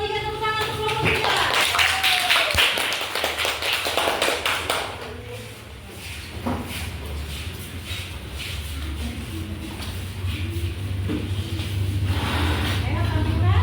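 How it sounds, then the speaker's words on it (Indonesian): Classroom of students applauding as group 3 is called forward, a dense wash of clapping that swells, dips briefly, then continues steadily, with a teacher's voice speaking over the start. "tepuk tangan untuk kelompok 3"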